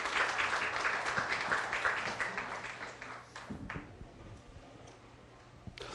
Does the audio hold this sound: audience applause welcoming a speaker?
yes